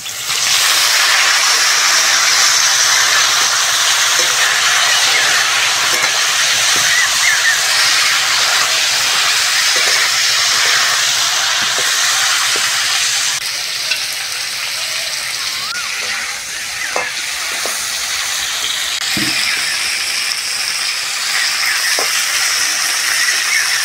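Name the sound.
cauliflower frying in oil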